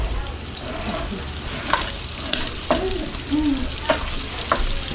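Butter melting in a pan for Southern gravy gives a steady low sizzle and frying crackle, with a few sharp scrapes and clinks of a utensil against the pan. No one speaks.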